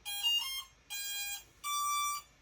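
Three short electronic tones in sequence from a GPS autopilot on a kayak initializing, each a bright steady beep with a slight pitch change, clear and close with brief gaps between.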